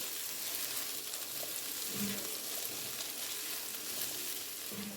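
Sausages and potatoes fry in a pan with a steady, faint sizzle, with a couple of soft scraping stirs partway through.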